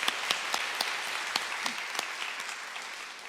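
A church congregation claps together in applause during an Easter service, a dense, steady patter of many hands close by and continuous for a few seconds, with no talk over it.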